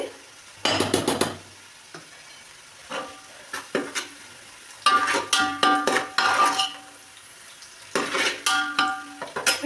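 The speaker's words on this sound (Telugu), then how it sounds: "చూడండి ఇట్లా మంచిగా ఇట్లా ఫ్రై కావాలి, ఇంకొంచెం కావాలి ఫ్రై" Egg and spices frying in a pan for egg biryani, stirred in bursts of sizzling and scraping with occasional clinks of utensil on metal, close and fairly loud with short quiet gaps.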